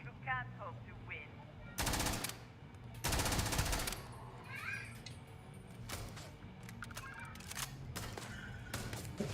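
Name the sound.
AK rifle gunfire in video game Starfield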